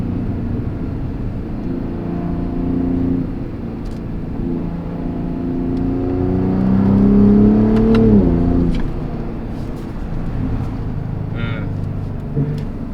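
Revving and downshifting of a Gen 3 Ford Raptor 3.5L V6 with an AWE Switch Path exhaust, a steady engine drone that climbs to a louder rev around the middle and falls off, with a few faint pops. People talk over it.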